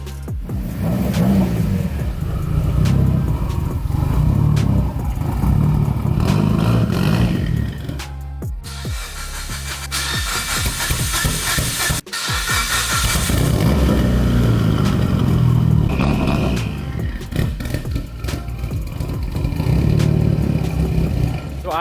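A Mitsubishi Evo 8 engine runs and revs up close, a sustained loud roar with rising and falling revs across the stretch, dropping briefly before picking back up, the car running a little rough.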